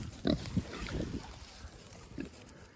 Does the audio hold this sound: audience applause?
no